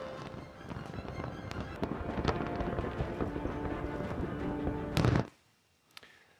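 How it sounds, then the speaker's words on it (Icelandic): A New Year fireworks display in Ras Al Khaimah crackles and pops continuously, with dense rapid bursts and a few sharper bangs before stopping abruptly, leaving scattered faint pops. "Í fyrsta dæminu Ras Al Khaimah var nýja árinu fagnað með gríðarlegri flugeldasýningu sem stóði yfir í 10 mínútur."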